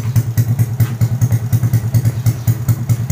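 A Nissan GTR's engine runs loud and close, with a steady low throbbing pulse and a faint mechanical clatter over it, and no one speaks.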